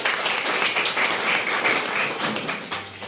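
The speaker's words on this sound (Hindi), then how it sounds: "एक बार सर के लिए जोरदार तालियां।" An audience claps for a participant, a short burst of dense applause at moderate distance that thins slightly toward the end.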